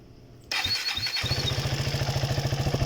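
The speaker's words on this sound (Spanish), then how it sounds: "Ya voy a encender la moto para que ustedes escuchen" A 2015 KTM 390 motorcycle engine with camshaft wear cranks, catches and settles into a steady, throbbing idle with a rapid regular pulse, close by and loud.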